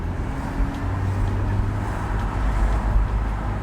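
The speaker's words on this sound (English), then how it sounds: "With the roof down, you get that distinctive S54 noise all the time" A BMW E46 M3 convertible with its S54 straight-six is driving with the roof down at low revs, giving a steady, deep engine rumble mixed with wind and road noise and no talking.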